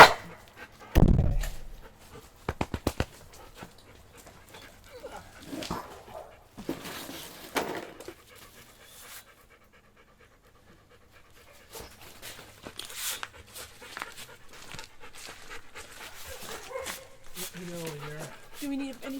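Dogs pant and whimper in short bursts during a roof rack and rear bumper install, with scattered clanks and workshop noise and people talking intermittently nearby.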